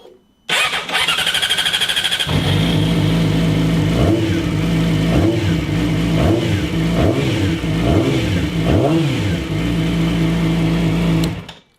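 A new motorcycle's engine starts, settles into a loud, close idle, then revs in several brief rising and falling blips before cutting off at the end.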